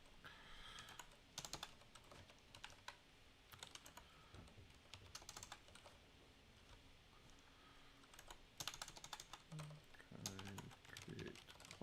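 A new computer keyboard is typed on in quick, uneven runs of soft key clicks, fairly faint and close, with scattered pauses and a few louder taps; a voice murmurs briefly in the background.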